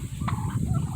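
Turkeys from a flock of fourteen give a quick, loud burst of overlapping close gobbles, with no voices.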